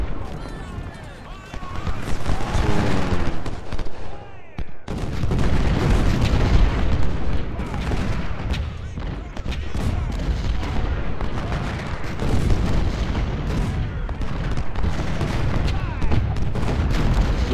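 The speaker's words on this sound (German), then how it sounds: "Kanonen." Civil War cannon artillery fires in the strategy game Ultimate General: Civil War, with repeated heavy booms and rolling blasts over dense continuous battle noise, while a player talks throughout.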